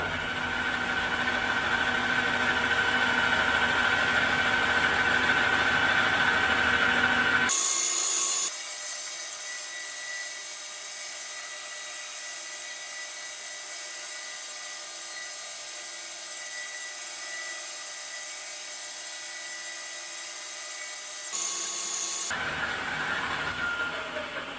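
Lathe cutting the squish band of an AM6 moped cylinder head: a loud, steady machining whine with a fainter stretch in the middle while the tool runs, continuing throughout with no talk.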